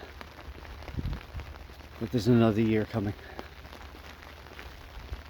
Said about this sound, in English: All of a sudden, the rain doesn't seem so bad